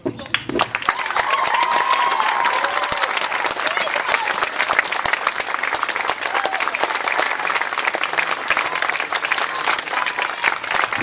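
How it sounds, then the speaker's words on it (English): Children at a Wanakee summer camp give the staff a big round of applause, steady dense clapping from a large group that lasts the whole stretch, with some scattered cheers and voices mixed in. "have the kids have a chance to give them a big round of applause as well"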